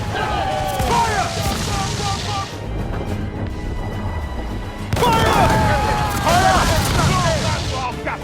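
Heavy ship cannons boom in a naval battle in the video game Assassin's Creed IV: Freedom Cry, two loud volleys of blasts and crashes with shouted crew voices amid the din.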